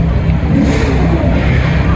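A front-engine Ferrari V12 revs loudly up close, a deep roaring drone with slight rises, mixed with street noise.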